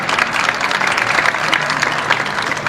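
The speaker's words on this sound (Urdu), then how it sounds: "شاعری کا آپ کھل کے تالیاں بجا سکتے ہیں" Audience applause at an Urdu poetry recital during the Aalmi Urdu Conference: dense, steady clapping from a crowd that fills the room and stays loud and even throughout.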